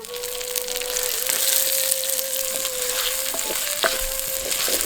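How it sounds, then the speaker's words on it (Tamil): Chopped shallots, added with green chillies, fry in hot oil for a traditional egg curry, a steady loud sizzle running throughout with occasional stirring clicks and small pops. "இப்ப நம்ம எடுத்து வச்சிருந்த சின்ன வெங்காயத்தை நறுக்கி சேர்த்துக்கலாம்."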